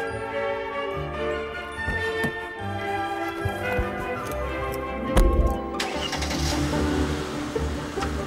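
A Mercedes 320 V6 car engine cranks with a ticking starter, then catches and settles into a steady, close idle rumble.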